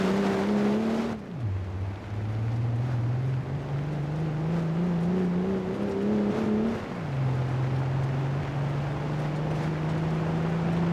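A Cadenza car in a racing video game drives loudly and alone, its engine drone steady, dropping in pitch with a gear change near the start and again partway through, then holding level.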